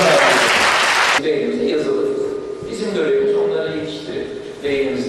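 A burst of clapping from a seminar audience for about a second, then it cuts off as a voice takes over.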